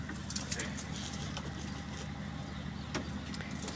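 A pigeon coos softly close by, its low throaty calls blending into a steady background hum, with a few brief sharper sounds breaking through.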